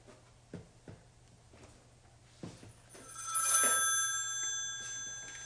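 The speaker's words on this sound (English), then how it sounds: "Oh, I got a phone call coming in." Several soft knocks and taps come first, then a telephone bell starts ringing loudly in a bright, rattling burst that keeps going to the end.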